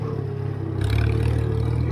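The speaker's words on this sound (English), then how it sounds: "This tractor's got a snappy governor." A Farmall tractor engine on a hay farm revs up partway through, a steady mechanical drone rising in pitch and loudness with a clattering edge, close and alone with no talk.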